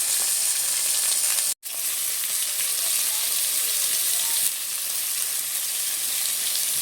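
Long strips of sliced potato fry in hot oil in a pan and are stirred. The sizzle is loud and continuous, with a brief break near the start, and no one speaks.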